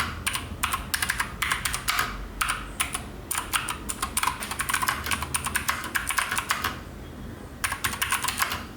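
Clicky mechanical keyboard keys with Keychron blue switches and Steelseries keycaps are typed in quick, crisp bursts close up, with a short pause before the typing resumes.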